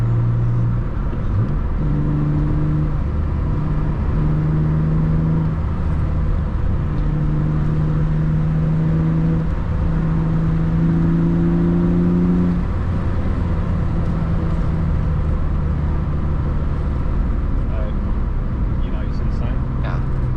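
A BMW E36 fitted with AKG 75D diff and subframe bushings and TMS camber arms drives flat out on a twisty road, its engine a steady, loud drone and road rumble throughout, with someone talking over it.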